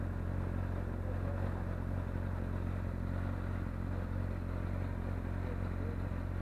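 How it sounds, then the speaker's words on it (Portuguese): A motorcycle engine drones steadily on a city avenue in Fortaleza, a continuous low rumbling roar that holds level for several seconds without clear revving peaks. "Acelera o motor."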